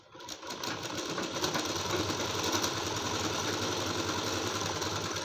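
A sewing machine stitching a blouse neck runs in a fast, steady mechanical whir after a brief start-up, close and continuous for the whole stretch, with no talking.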